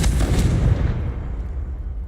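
A Confringo blasting spell explodes in Hogwarts Legacy, a loud, close burst with a deep booming body that hits at once and then rumbles away over about two seconds, with no one talking.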